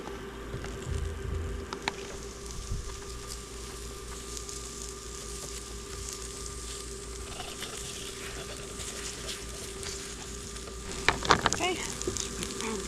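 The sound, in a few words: eggs frying in pan on induction camp stove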